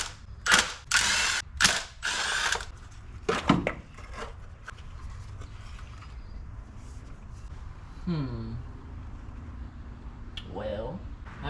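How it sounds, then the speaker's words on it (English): A ratchet works loose the valve cover bolts on a barn find Chevrolet C30 truck, with several quick bursts of close clicking followed by quieter metallic handling and faint voices. "let's pull this valve cover off and make sure we don't have a more serious issue"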